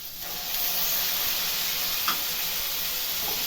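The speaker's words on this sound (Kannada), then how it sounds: "ಇದೊಂದು ಐದು ನಿಮಿಷ ಚೆನ್ನಾಗಿ ಫ್ರೈ ಆಗಬೇಕು" Onion and tomato with turmeric frying in a pan for a hotel-style avalakki dal khichdi, a steady soft sizzle and hiss running throughout at moderate level, with one brief faint clink partway through.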